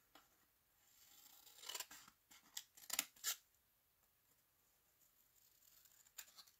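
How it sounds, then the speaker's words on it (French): Scissors snip through paper while a greeting card and gift envelope are being made: a few quiet, crisp cuts clustered together, then a lone faint snip a few seconds later, in an otherwise hushed room. "je prends mes ciseaux et j'enlève ça"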